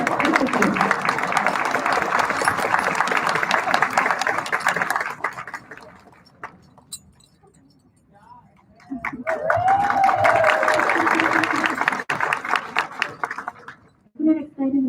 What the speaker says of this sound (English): Can we please give another round of applause to our Principal's Award recipients?